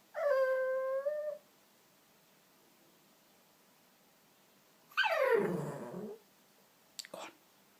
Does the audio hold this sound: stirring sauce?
no